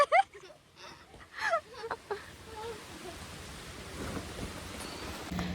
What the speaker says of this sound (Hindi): भाई बारिश हो रही